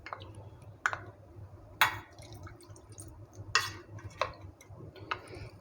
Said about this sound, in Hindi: हम इसमें हल्का सा ये पानी ऐड कर